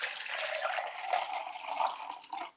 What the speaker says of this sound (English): So let's get some water. All right, I'll just use a stemless wine glass.